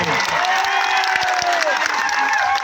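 A crowd applauds at a Birsa Munda 150th birth anniversary rally in Netrang, steady dense clapping with cheering throughout, a voice carrying over the top.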